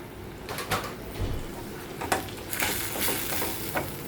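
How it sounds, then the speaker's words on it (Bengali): Turmeric, chili powder and salt frying in oil in a pan for a masoor dal and potato dish, a steady sizzle broken by several spatula scrapes and stirring knocks, close up and without speech. "আর একটু মশলাটা ভালো করে ভেজে নেব।"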